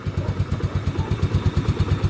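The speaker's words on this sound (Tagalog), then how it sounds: "Kumandar siya gamit yung charger" A Yamaha Nouvo Z motorcycle engine idles close by with a steady, rapid chugging pulse and a faint clatter, running evenly without revving.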